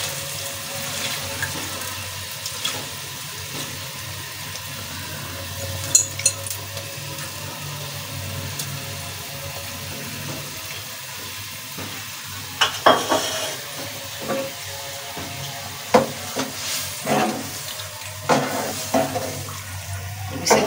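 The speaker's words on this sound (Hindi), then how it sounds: "अभी इसमें दाल ऐड करते हैं। इसमें दाल डालना है।" Soaked masoor dal is added to a pot and stirred, with steady sizzling and watery hiss throughout and scattered scraping clinks of the spoon growing more frequent toward the end, no talk.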